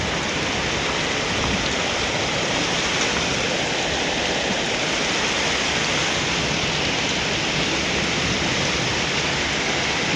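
Heavy rain pours down in a dense, unbroken roar, loud and steady throughout with no voices.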